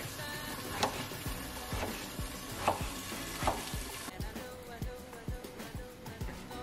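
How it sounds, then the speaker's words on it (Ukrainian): Steady sizzling of zucchini frying in a pan, with a few louder pops and spatters, close by and continuous. "Поки кабачок смажиться"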